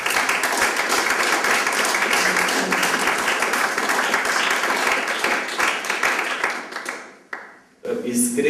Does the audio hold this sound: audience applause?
yes